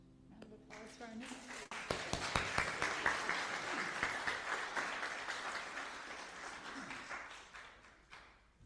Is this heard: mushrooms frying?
no